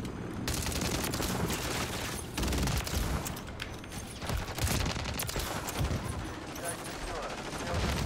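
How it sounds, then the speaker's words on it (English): Rapid bursts of Call of Duty: Modern Warfare 3 gunfire, including a UMP45, crackle continuously, dense and loud, with sustained automatic fire throughout. "Even that gunfire there, oh, I should have died."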